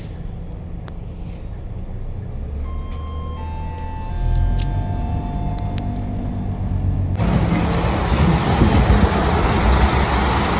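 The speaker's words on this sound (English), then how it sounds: "now we're on the second bus" Interior of a moving city bus in Adelaide: a steady low engine rumble and road noise, with faint tonal whines and rattles, growing louder and rougher toward the end as the bus speeds up.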